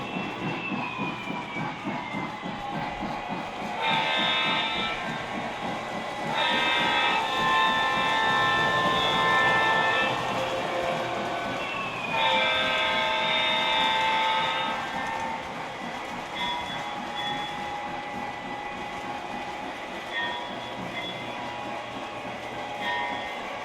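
A Lionel Milwaukee Road 261 model train runs on a home layout, its motor humming and wheels clattering rhythmically along the track, with repeated whistle blasts rising above the steady rumble, close and loud.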